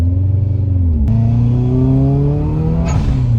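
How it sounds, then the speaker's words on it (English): Steady, loud boxer-engine rumble from a 1998 Subaru Impreza WRX STI GC8, heard from inside the cabin, with the revs rising and falling smoothly throughout. "I love that Boxer sound, though."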